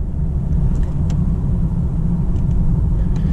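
Steady low rumble of a BMW 330i xDrive sedan driving on an open road in sport mode, heard from inside the cabin as a continuous, fairly loud engine and road drone with no clear rise in pitch.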